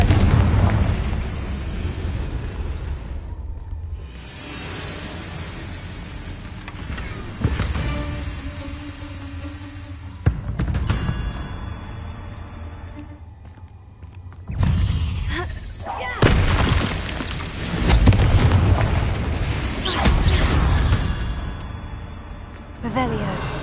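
Confringo blasting spell bursts in the Hogwarts Legacy video game, with several loud booming explosions spread through the stretch, the heaviest cluster near the end, over continuous game ambience and music.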